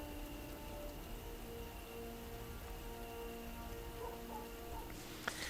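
Steady rain falls in a Dragon Age video game scene, a constant soft hiss with faint tonal ambience underneath and a brief sharp tap near the end.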